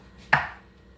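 A single sharp knife chop on a cutting board during dinner preparation with tri tip, one crisp close thud that fades quickly in a quiet kitchen.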